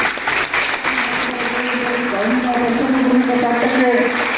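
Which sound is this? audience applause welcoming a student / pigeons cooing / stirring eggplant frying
audience applause welcoming a student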